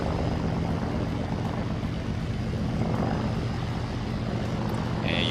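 Ju87 Stuka dive bomber taking off in an Arma 3 mod, a steady loud propeller engine drone with broadband roar held throughout, close and continuous with no talk.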